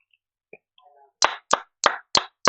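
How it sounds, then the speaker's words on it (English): Five crisp hand claps from a single person close by, evenly spaced about a third of a second apart during a live online show, with no talking over them. "One more hand clap for that one."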